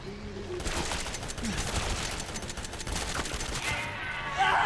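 Rapid gunshots in the horror game Resident Evil 7, a dense burst of repeated shots lasting several seconds at moderate loudness, mixed with background game ambience.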